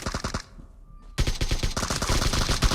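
An AKM rifle in PUBG Mobile fires in rapid automatic bursts, loud and close, stops briefly for a short pause, then resumes in a sustained string of sharp shots.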